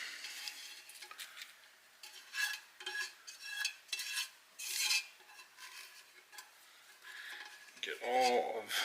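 A spatula works peanut butter mixture through Chex cereal in an ungreased pan, making soft crunchy scraping strokes in uneven bursts, fairly quiet, with a low knock and rustle at the end.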